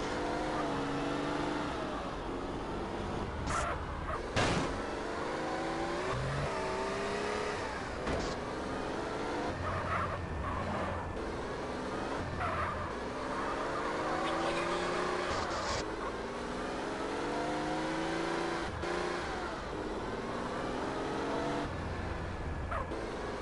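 Car engine in GTA San Andreas, revving and shifting as the car drives, with rising and falling engine pitch and occasional knocks and impacts, steady and close throughout.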